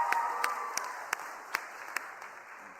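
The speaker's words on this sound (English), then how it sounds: "Give a round of applause for our cheerleaders starting off this health clinic." Scattered applause from a modest press-conference crowd greets cheerleaders opening a free healthcare clinic event, with a handful of separate claps spaced out over a steady room hum.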